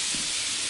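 Steam hissing from a vent in Lethal Company, a steady, close, broadband hiss lasting under a second without a break.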